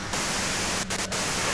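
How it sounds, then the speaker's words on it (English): Loud, steady white noise static from the Disco Elysium video game fills the whole moment, a dense broadband hiss with a couple of brief dips near the end. "you can do it through the white noise"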